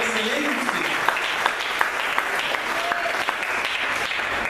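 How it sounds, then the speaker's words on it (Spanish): Congregation applauding during a church sermon, a steady wash of clapping hands throughout with no pauses. "Dele aplausos, dele gloria al Señor."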